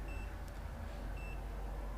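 A multimeter in diode-test mode, probing a USB stick, gives two short, faint electronic beeps spaced about a second apart over a steady low hum.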